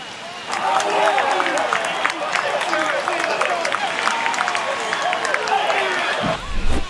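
A Red Sox vs. Yankees baseball stadium crowd roars after a run scores, a broad sustained wave of cheering and clapping that holds steady for several seconds before a muffled thump at the end.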